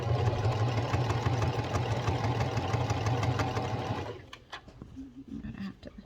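A domestic sewing machine runs a fast, steady, close stitching burst on a fabric sugar glider tunnel. After about four seconds it stops, leaving quieter handling clicks and rustles.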